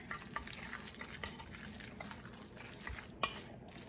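A fork mixes tuna salad in a bowl, giving soft, wet scraping and stirring sounds with light clinks against the dish, and one sharper tap near the end.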